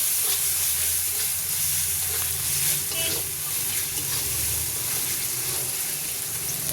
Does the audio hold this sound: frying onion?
yes